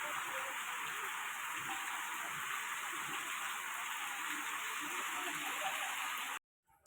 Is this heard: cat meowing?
no